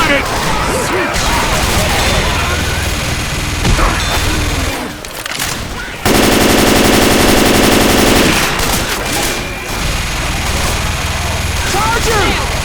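Automatic gunfire from Left 4 Dead 2 gameplay rattles in dense bursts almost throughout, loud and close, with brief lulls, a heavier sustained stretch midway, and voices calling out over the shooting.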